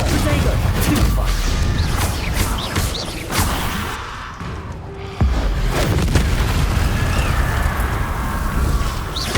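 Blasting-spell explosions in the video game Hogwarts Legacy boom loudly, with heavy low rumbles, crashing debris and a sudden blast after a brief lull, alongside in-game voices.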